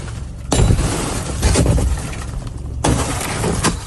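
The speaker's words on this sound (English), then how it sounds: "Cell phone video shows what appears to be federal agents smashing a car window in New Bedford on Monday" Federal agents smashing a car window in New Bedford, with loud sharp impacts and bursts of breaking glass, three or four heavy crashes separated by noisy clatter.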